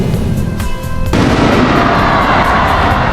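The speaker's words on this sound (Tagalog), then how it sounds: "meron silang pa-final fireworks" Final fireworks bursting at an SM mall the day before New Year's, a dense continuous rumble of booms and crackles, loud and close, with a brief tonal sound near the start.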